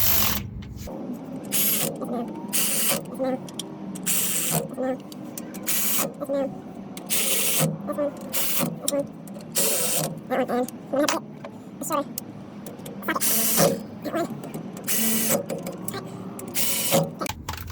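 A power tool runs down the nuts on the rear differential cover of a 2006 Dodge Ram 1500, with repeated loud whirring bursts separated by short pauses and mechanical clicking between them, and a voice talking at times.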